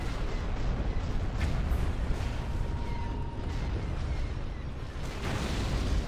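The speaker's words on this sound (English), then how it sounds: "I hate that just big explosion" Explosions and weapons fire in the Star Wars Empire at War space battle game, a dense continuous barrage of booms and blasts, loud and sustained throughout with no speech over it.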